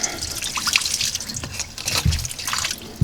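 Water splashing and trickling out of a ski boat motor drained for winter, a steady close patter with occasional louder drips and gurgles, and no talking.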